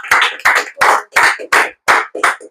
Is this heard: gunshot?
no